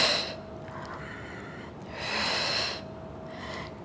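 Forceful breaths during an at-home mini ball Pilates workout: close, airy exhales come in three bursts, a brief one at the start, a longer one in the middle and a short one at the end, over a steady low background hum.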